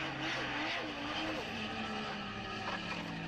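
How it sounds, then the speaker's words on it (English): Drift car at the British Drift Championships at Teesside, running on a bare alloy rim after losing a tyre, heard as a distant engine wail with scraping and tyre noise from the track, carried over crowd ambience. "he's still drifting with no tyre on the rim because I can hear the alloy scraping"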